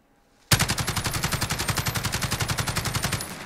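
Full-auto burst from the STG77 rifle in Call of Duty Modern Warfare, starting abruptly after a brief silence and hammering out a fast, even string of loud close shots for about three seconds.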